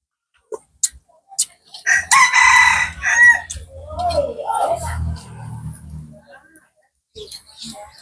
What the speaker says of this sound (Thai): ไก่กำลังจะขึ้นนอนนะครับตอนนี้นะครับเห็นไหมครับมันขันแล้วตอนเย็นนะครับ